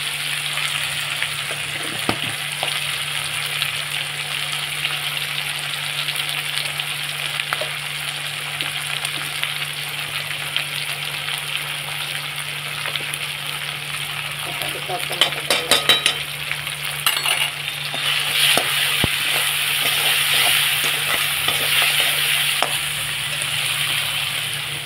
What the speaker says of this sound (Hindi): ये डाल देंगे अदरक लहसुन, ज़्यादा जलाऊंगी नहीं फिर अच्छा खुशबू नहीं आता है।